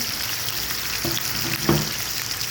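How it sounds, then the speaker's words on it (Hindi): Seekh kebabs shallow frying in oil in a pan give a steady, close sizzle, with two brief clatters of a utensil against the pan partway through. "बस मुझे इसको शैलो फ्राई करना है"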